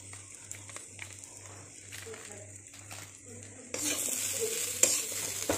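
A spatula stirs mashed jackfruit seed dal seasoned with chicken masala in a pan. Soft scraping and light sizzling strokes repeat steadily, then grow louder and brighter in the final seconds.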